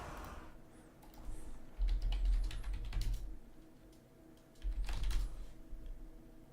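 Computer keyboard and mouse clicks during a land battle tournament in an online game, rapid clusters of clacks rising and falling in loudness over a soft background, with no speech.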